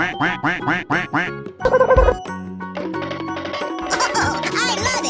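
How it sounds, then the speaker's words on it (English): A cartoon duck character in a 3D animal slide video game quacks five times in a quick, loud, evenly spaced run, followed by dense game music and effects. "Quack, quack, quack, quack, quack,"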